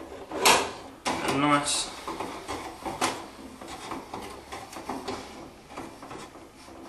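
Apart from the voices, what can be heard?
tightening a nut with a 14mm spanner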